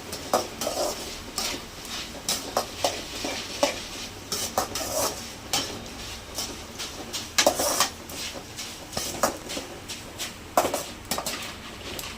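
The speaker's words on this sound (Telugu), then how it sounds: "లాస్ట్లో అటుకులు కూడా వేయించుకోవాలి" Flattened rice (atukulu) roasting in a pan for a spicy puffed-rice snack, with intermittent scraping stirs and light metallic clinks over a soft background sizzle, moderately quiet and without voices.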